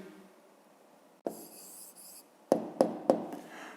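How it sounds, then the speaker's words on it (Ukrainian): A pen writes an answer on paper during a fifth-grade math exercise: a soft, faint scratch, a brief stroke, then three quick, distinct taps or short strokes close to the listener. "записуємо тоді відповідь"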